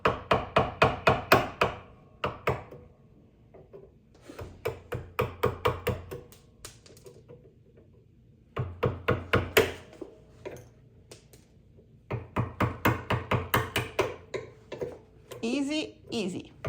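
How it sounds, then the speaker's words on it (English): A hammer taps in quick rhythmic bursts of sharp, close clicks while a violin scroll's spiral is being carved, with quiet pauses between runs and a brief voice near the end. "I'm going to show you my favorite tool, the hammer, and that's how you do"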